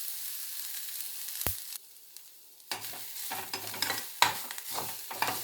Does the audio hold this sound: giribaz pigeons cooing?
no